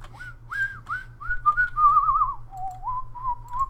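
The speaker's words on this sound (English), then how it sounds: "Don't whistle into the thing." A person whistles a wavering, playful tune close to the microphone, several short swooping phrases over a faint low hum, alone with no talking.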